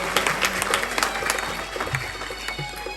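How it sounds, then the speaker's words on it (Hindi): An audience at a live kirtan gathering claps for a young girl: loose, moderately loud scattered claps over a steady low hum, with crowd noise in the background. "इसके लिए जोरदार तालियां बजनी चाहिए"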